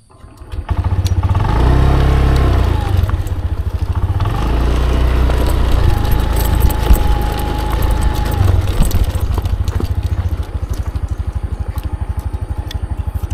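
Motorcycle engine running steadily, ridden during a fishing outing along an oil palm plantation canal, loud and continuous with a low rumbling drone and some mechanical clatter, no talking.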